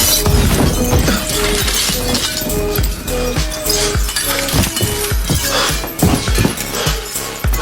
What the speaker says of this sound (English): the glass on the window cracked from pressure